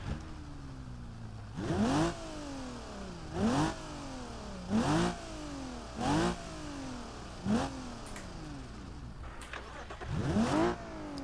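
A car engine repeatedly cranked and caught in a drift video game featuring a BMW E92 and Nissan 180SX, each attempt a short rising whir and rev burst, about six spaced evenly through a steady low background hum.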